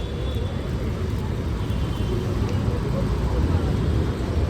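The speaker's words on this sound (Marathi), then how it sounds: "ट्रॅफिक ना आज एवढी आहे ना," Heavy road traffic near a busy petrol pump gives a continuous dense rumble of engines, steady and fairly close, with no clear single vehicle standing out.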